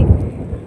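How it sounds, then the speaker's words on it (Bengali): Loud rumbling thunderclap during a rainstorm, a short deep roll close by with no talking. "বিশাল জোরে মেঘের আওয়াজ তোমরা কি শুনতে পাচ্ছ"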